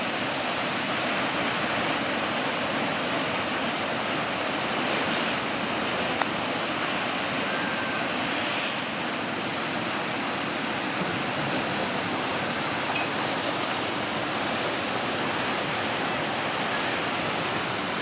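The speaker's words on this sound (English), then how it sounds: "Waves are good. That's a good surf right now." A continuous, loud roar of breaking surf on the ocean shore at La Jolla, California, a dense wash of waves that holds steady throughout with a little wind noise.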